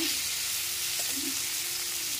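Potato and pointed gourd (parwal) curry fries in a pan, giving a steady, close sizzling hiss that holds evenly through the short stretch with no talking.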